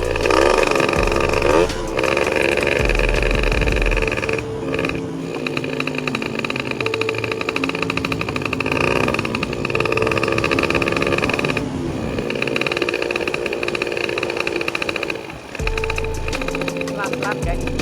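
A motorcycle engine, apparently a Yamaha FZ R, revs loudly and steadily up close, holding a high droning pitch with brief dips and surges throughout.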